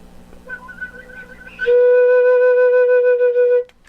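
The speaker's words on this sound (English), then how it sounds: "start your sound with a whistle, then go into the tone" On a flute, a thin, wavering whistle tone gives way to a full, steady held note with a slight pulsing, close and clear in a quiet room.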